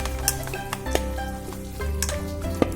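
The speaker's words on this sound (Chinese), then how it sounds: "放入胡辣油，增加香味、辣味，然后用筷子搅拌均匀即可。" Hot chili oil is poured into a seasoning sauce for a cold purslane salad and stirred with chopsticks, giving a close, steady sizzle with sharp clicks and taps from the stirring and no voices.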